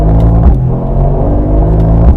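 Mercedes-AMG GT 63 S E Performance hybrid in Sport Plus launching from a standstill, a loud, steady low engine roar with harmonic bands shifting as it builds, a brief dip near the middle and another toward the end.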